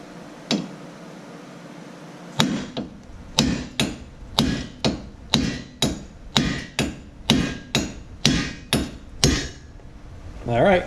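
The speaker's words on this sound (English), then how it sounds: "we're going to whale away with a hammer and knock this wheel" Hammer knocking a wheel stud through the hub of a Scion xB: a couple of early strikes, then about a dozen loud, close, metallic blows in a steady rhythm, each ringing briefly.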